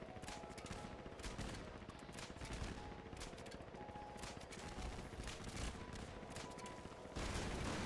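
Rapid gunfire rattles on in Fallout 76 during a raid, a dense continuous stream of quick shots that runs the whole time with no pause and swells louder in the final second.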